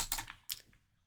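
A computer mouse gives two quick, close, crisp clicks, one right after the other, in an otherwise quiet room.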